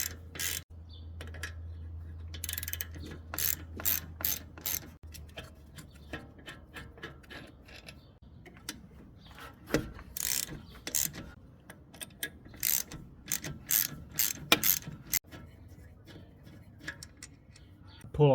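Rapid ratchet clicking comes in uneven bursts at close range as 13mm brake caliper bolts are worked loose on a supercharged 2014 Audi Q5, with faint knocks of tools between runs.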